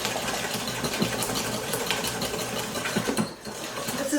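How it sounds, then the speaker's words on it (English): A whisk scraping and clinking steadily in a bowl as sugar is beaten into muffin batter, a fast busy rattle close to the microphone, briefly pausing near the end. "And you're going to keep whisking it until it is light in color."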